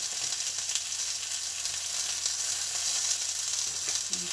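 Oil sizzling and crackling steadily in a cooking pot as it heats before chicken goes in, a dense, even hiss close by with no one talking.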